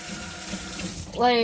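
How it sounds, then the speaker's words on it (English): Tap water starts running into a sink near the end, a sudden gush after a quiet, murmuring stretch as hands are washed in a home kitchen while cooking. "Oh, wash my hands again."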